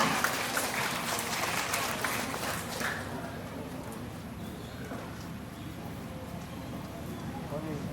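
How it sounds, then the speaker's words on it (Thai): Brief burst of audience clapping at a Thai temple seminar for a young child, lasting about three seconds before giving way to a quiet room with low background murmur. "ปรบมือดัง ๆ ให้กับน้องเลยค่ะ"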